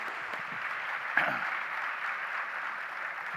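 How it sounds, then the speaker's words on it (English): Applause from an audience at a scholarship silver jubilee celebration, a steady distant wash of clapping lasting a few seconds, fairly faint and without speech. "Could we have a huge round of applause for them?"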